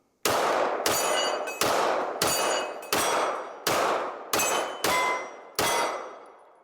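A 2011 pistol firing rounds, about nine loud, sharp shots spaced roughly a second apart, each with a ringing decay, heard alone without talk.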